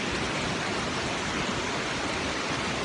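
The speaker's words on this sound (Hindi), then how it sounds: "ये आप मेरे पीछे देख सकते हैं वाटरफॉल। इंतहाई खूबसूरत।" Jarogo Waterfall in Swat, Pakistan, heard as a dense, unbroken roar of falling water, loud and close, with no other sounds.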